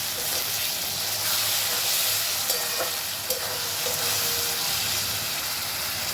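Spices frying with fried onions in ghee for biryani, giving a dense, continuous sizzle and hiss with a few faint stirring knocks.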